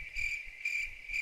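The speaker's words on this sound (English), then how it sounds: "Crickets." Crickets chirp in a steady high, pulsing trill, played as a short sound effect with no voices over it.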